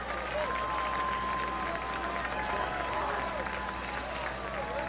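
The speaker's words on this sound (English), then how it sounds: "And the crowd is on its feet." A distant crowd cheers and claps steadily at a high school baseball state championship game, a broad continuous roar under a radio announcer's voice.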